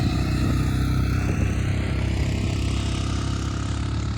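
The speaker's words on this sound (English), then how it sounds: "It's the motorcycles going by." A steady, loud engine rumble holds throughout, motorcycles droning past nearby on the White Rim Road, with no clear rise or fade.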